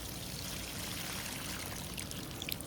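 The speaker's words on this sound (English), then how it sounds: "And next we need to add some water." Water pours steadily into a concrete mix for DIY paving stones, making a continuous rushing, trickling stream close by and at an even level throughout.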